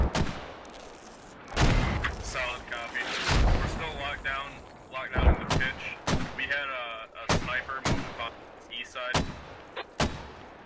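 Incoming enemy artillery in the game Squad, with heavy shell blasts and booming impacts landing repeatedly, some close and loud, amid scattered gunfire while players talk over the radio.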